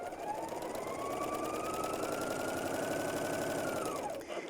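A BERNINA L 660/L 650 overlocker stitches fine woven fabric at default settings with differential feed 1, running as a steady, fast, close hum that ends abruptly just before the close.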